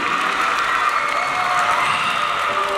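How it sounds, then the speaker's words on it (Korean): Steady applause from a crowd at a national youth self-defense martial arts competition, a dense and even wash of clapping that holds for the whole stretch with no voices over it. "큰 박수"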